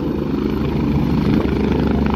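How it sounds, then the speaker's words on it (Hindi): A helicopter turning overhead gives a steady, loud rotor and engine roar with a low throbbing beat that holds throughout, with no voices. "यू टर्न होता हुआ नजर आ रहा है हेलीकॉप्टर"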